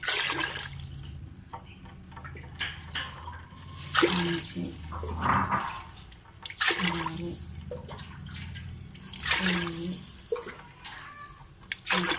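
Measured glassfuls of water splash into a cooking pot for biryani in several separate pours, with a voice counting aloud between them.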